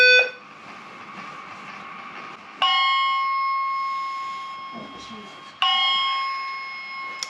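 A hotel fire alarm sounds in repeated loud electronic tone bursts with a bright ringing pitch, each burst slowly fading before the next one strikes, while a person talks quietly nearby.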